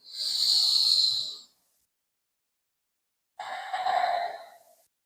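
Two deep, steady yoga breaths, each a long airy hiss lasting over a second, separated by a quiet pause, close and clear with no talk.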